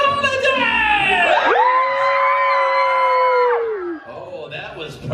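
A theater audience at a Monsters Inc. Laugh Floor holiday show in Magic Kingdom Park screams and cheers together with hands up, a loud sustained crowd yell that swells for a couple of seconds and then fades into scattered voices.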